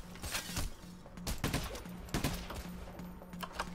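Gunfire from the heist video game Payday: The Heist, heard as rapid, repeated shots in uneven bursts, fairly faint and steady throughout, over a low constant hum.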